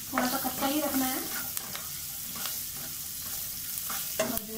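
Okra and onions for bhindi do pyaza are stir-fried in a pan, giving a steady soft sizzle with a few scraping stirs near the start and occasional light clinks.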